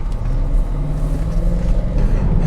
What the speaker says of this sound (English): Going over some bumps.